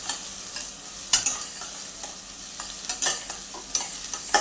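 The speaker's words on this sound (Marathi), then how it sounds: "कांदा आता आपण चांगला परतून घेऊ" Onion sizzles in a pan with whole spices for a fenugreek-and-corn pulao, a low steady frying hiss punctuated by irregular spatula scrapes and clinks against the pan, close and without speech.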